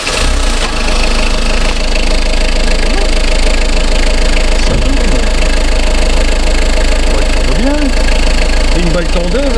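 A 1999 Renault Trafic's longitudinally mounted inline four-cylinder engine idles loud and close with a steady rough knocking drone, while voices talk over it.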